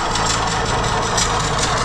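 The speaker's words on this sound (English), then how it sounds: "This is the Waterloo Boy tractor." Waterloo Boy antique tractor engine running steadily at idle on museum display, a continuous low, throbbing mechanical drone with even loudness throughout and no talk.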